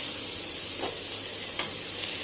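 Tomatoes sizzle and fry in a pan, with a steady, close hiss. A couple of soft stirring scrapes sound over it, and no one speaks.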